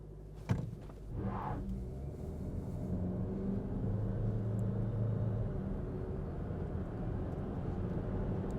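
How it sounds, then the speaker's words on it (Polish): An MG HS PHEV plug-in hybrid SUV, rated 272 hp, held on the brake at full throttle for a launch: a soft thump, then a steady low engine drone and rumble that builds slightly and holds, muffled from inside the car, no talk. "Noga na hamulec, gaz podłogę. Podtrzymanie obrotów."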